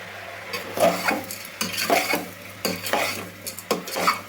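Sliced beans with chili powder and salt in oil are stirred in a pan, rhythmic scraping and clinking strokes of a spoon over a faint sizzle and low hum, close and clear.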